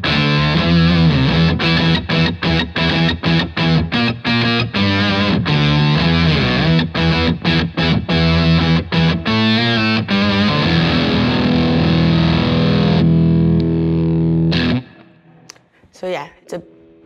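Electric guitar through a drive pedal, loud distorted chords with choppy stabs that give way to a sustained ringing chord, then cut off before faint handling noises.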